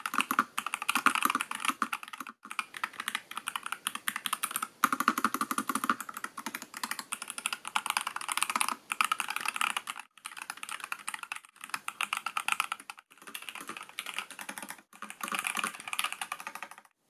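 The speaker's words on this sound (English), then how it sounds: "a quick demo of what the keyboard sounds like as we do a typing test" Brisk typing on a MelGeek MADE68 Air, an ultra-thin low-profile keyboard with magnetic switches: dense, close, crisp clacking in steady bursts with several brief pauses, and no voices.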